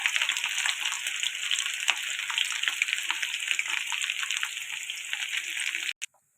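Ivy gourd (dondakaya) roasting in a pan gives a steady, bright sizzle that stays loud and even for about six seconds, then cuts off abruptly with a couple of clinks.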